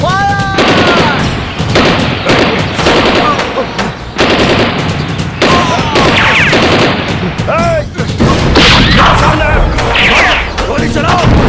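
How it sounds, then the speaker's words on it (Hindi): Rapid bursts of gunfire in a Hindi action film shootout, loud and dense across the scene, with repeated sharp shots and booms layered over shouting voices. "गोली चलाओ जल्दी"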